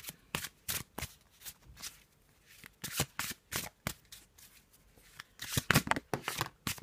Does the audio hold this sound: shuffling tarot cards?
yes